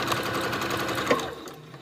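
A sewing machine stitches fabric for a zipper pouch with a waterproof lining, its rapid close needle chatter running steadily before slowing and trailing off near the end.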